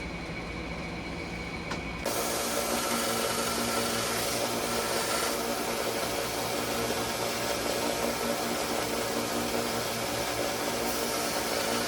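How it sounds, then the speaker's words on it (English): Power sanding of the axe-handle scales on a W.R. Case & Son's pocket knife, a steady loud grinding whir that starts abruptly after a short quieter stretch and runs continuously to the end. "So what I'm going to do is sand it down some, sand it flat"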